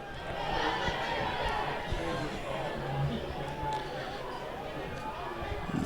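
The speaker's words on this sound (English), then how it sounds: "Fans starting to fill in here, at least on the home side. Not a bad crowd for the South Lyon faithful." Fans at a high school football game between South Lyon and Walled Lake Western, a steady murmur of crowd chatter and scattered calls in an open stadium, moderately loud, with an announcer speaking over it.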